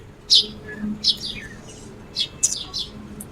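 Small bird chirps in short bright bursts, several quick tweets scattered over a few seconds, close by in a quiet room.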